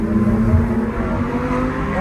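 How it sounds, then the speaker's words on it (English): A Lamborghini engine roars with a steady, loud, continuous drone that holds evenly throughout. "I love the sound of the Lambos so much."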